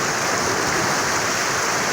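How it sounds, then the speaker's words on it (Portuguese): Heavy rain in Araçoiaba, Pernambuco, sends floodwater rushing over a covered bridge, a dense, steady roar of water with no break. "Olha o fluxo de água."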